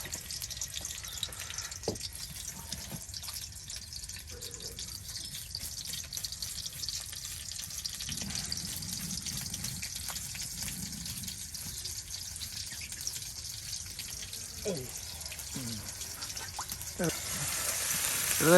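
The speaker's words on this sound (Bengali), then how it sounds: "তেলে এখন ভেজে নেওয়া হচ্ছে" Dried fish and chopped onion fry in hot oil with a soft, continuous sizzle, while a few faint clinks and stirring sounds come and go over low background noise.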